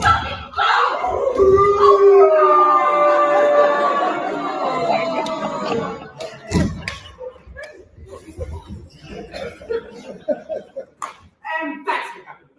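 A voice imitates a dog howling in a long, wavering wail during a stage comedy skit at an annual awards show, followed by excited talking and shouting.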